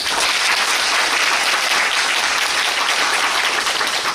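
Theatre audience applauding the staff during a closing-night curtain-call stage greeting, a loud, dense and steady wash of clapping from a large crowd with no talk over it.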